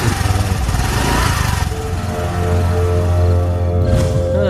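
A motorcycle engine runs loudly and close by with a steady throbbing drone, its pitch shifting slightly partway through, the rider carrying two people.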